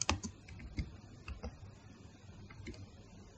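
Light typing on a computer keyboard while writing C++ code, a scatter of soft, quick key taps heard close and faint, with denser clicks at the start.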